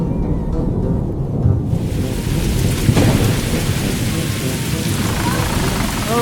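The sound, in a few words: thunder and heavy rain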